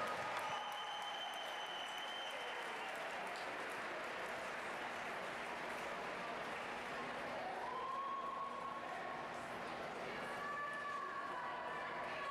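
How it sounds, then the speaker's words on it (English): Swim meet crowd applauding and cheering for the swimmers after the men's 1500m freestyle final, a steady dense roar of clapping with a PA voice faintly under it. "Ladies and gentlemen, how about a round of applause for these guys and your champion, Connor Yeager?"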